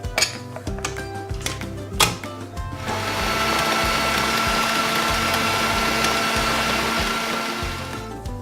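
A food processor whirs steadily as it mixes cookie dough ingredients in its bowl, preceded by a couple of seconds of clattering bursts before the motor settles into a loud continuous drone.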